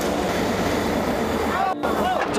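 A Taiwanese steam locomotive at a railway depot vents steam in a loud, continuous close hiss that breaks off briefly and resumes, with faint voices underneath.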